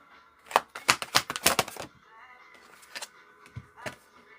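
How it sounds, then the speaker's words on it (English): Tarot cards are shuffled in a quick burst of crisp riffling snaps, followed by a few softer scattered card taps, close and quiet. "It's really important that you see the cards and me shuffling them."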